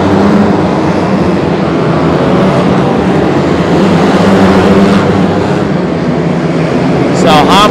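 Several 250 class race engines run continuously under green flag conditions, a loud steady roar filling the whole clip with a commentator talking over it.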